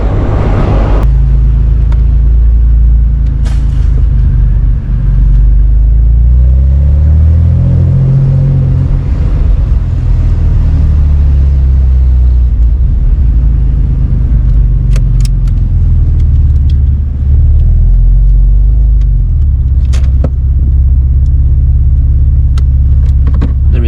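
A Porsche Boxster 986 engine is driven hard, giving a loud, steady, close rumble throughout with a few rising and falling revs partway through.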